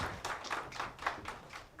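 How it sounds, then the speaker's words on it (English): Scattered applause from a cybersecurity roundtable audience, uneven and fairly faint, in quick irregular claps lasting under two seconds. "A round of applause"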